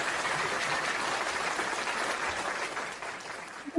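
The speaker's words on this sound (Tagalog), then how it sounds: "Kahit huli ang palakpak, ipapalakpak natin, no?" An audience claps steadily in dense, even applause that holds for several seconds before thinning out toward the end.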